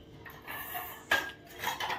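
A spoon clinking against a dish while eating idli and sambar: a few faint, light metallic taps and scrapes, close by and quiet, including one brief brighter clink, with no talking.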